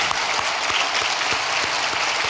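Congregation in a Korean church service applauding to welcome visiting guest pastors from Taiwan, a steady, dense round of clapping that fills the hall evenly throughout with no voices on top.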